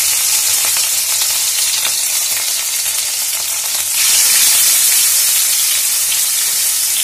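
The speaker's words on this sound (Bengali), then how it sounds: "দুটো দুটো করে মাছ ভাজবো।" Pieces of katla fish fry in hot oil with a steady, close sizzle and hiss that swells louder partway through, with no talk.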